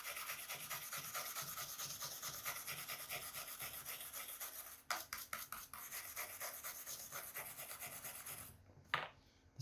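Brush scrubbing rust off metal table parts, with continuous close rubbing strokes for several seconds, then a few scattered scrapes and a short final burst, fairly faint overall.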